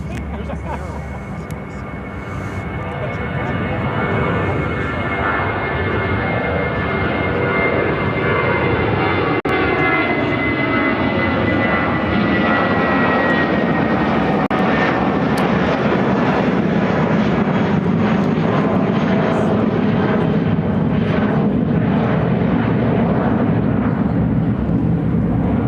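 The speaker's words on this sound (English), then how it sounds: "United Airlines 439 taking off to Washington, Reagan National on the A319." United Airlines Airbus A319 jet taking off at Chicago O'Hare toward Washington Reagan National: a loud engine roar swelling in the first seconds and holding strong with a high whine, a voice speaking over it.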